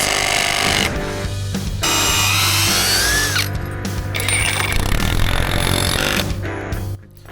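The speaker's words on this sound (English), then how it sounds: "To avoid splitting the wood, I pre-drilled" A power drill pre-drills holes in wood for lag screws on a tiny house build, whining loudly in long sustained bursts with brief pauses between them.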